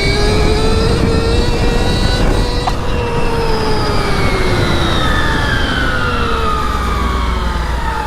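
Rising and falling electric whine of a street-legal Stark Varg electric motorcycle being ridden, a loud, steady high-pitched motor tone with shifting pitch over rushing wind noise, no voices.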